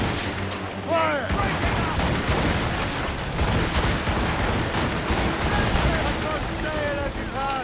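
Ship cannons fire repeatedly during a naval battle in Assassin's Creed Rogue, a loud continuous barrage of booms mixed with wind, churning water, gull cries and crew shouting orders.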